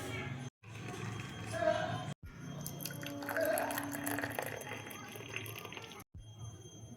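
Freshly cooked chocolate chai is strained, giving a soft trickle and pour of liquid. A voice talks over it nearby, and there are short breaks between pours.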